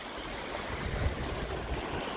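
River water rushes through a broken gap in a check dam on the Machchhu river, a steady, close, noisy gush with a low rumbling undertone throughout.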